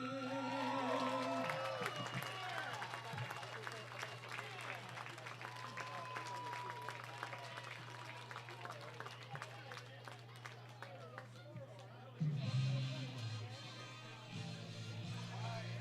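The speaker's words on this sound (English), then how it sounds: "Crowd very lively here on a Saturday evening from Athens in southeast Ohio." A lively crowd at a Southern Ohio Copperheads summer-league baseball game in Athens, Ohio, cheers and applauds right after the national anthem. The sound is a broad, sustained wash of clapping and shouting, with a steady hum underneath and a sharper burst near the end.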